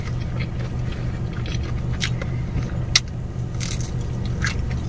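A handful of sharp, crunchy bites into lightly battered fried shrimp, with chewing crackles, close up, over a low steady background hum.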